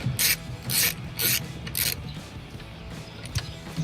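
A ratchet wrench unscrewing a bolt from a Jeep Wrangler JK door hinge, four quick rasping clicking bursts followed by softer ticks, close and without speech.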